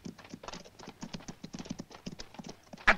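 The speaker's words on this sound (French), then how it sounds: "Butch, voilà 2 cavaliers qui arrivent" Two riders' horses approach with a busy, steady clip-clop of hooves on hard ground, moderately close, and a sharp louder knock at the very end.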